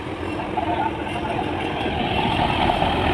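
The engine of a passenger launch, the MV Carnival Cruise on the river route to Bhola Ilisha, runs at full throttle as a steady, loud, low droning rumble with a faint higher whine, unbroken throughout.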